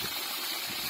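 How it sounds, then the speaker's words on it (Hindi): Water from a borewell overflows and gushes out on all sides, a steady broad wash of rushing water close by with no talk over it. "वो भी चारों तरफ से फेंक रहा है, चारों तरफ से फुल पानी, फुल पानी"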